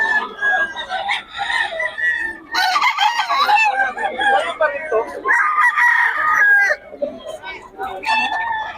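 Many chickens cluck and roosters crow loudly nearby in an overlapping, busy chorus at a poultry market in Bocaue, with voices of people in the background.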